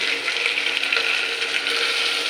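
Food frying in a pan for a Bengali mutton and chicken kosha, a loud, dense and continuous sizzle heard close up with no voices.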